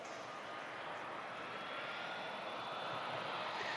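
Aircraft passing at an air show, a faint steady engine roar that builds slightly as the plane flies by, heard at a distance with no talk.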